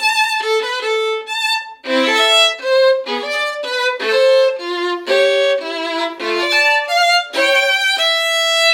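A solo violin plays a Bach bass line with notes placed squarely on the beat, a bright close run of detached tones in a steady, unbroken pulse with no talking.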